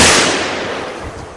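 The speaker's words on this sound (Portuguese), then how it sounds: "Esses tiros, eles estão chegando" A single loud blast rings out and decays into a long, rumbling echo that fades gradually.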